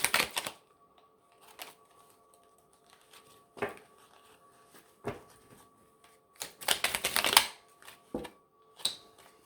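Tarot cards shuffled for a three-card reading, a series of quiet, sharp riffling bursts separated by near silence, close and alone.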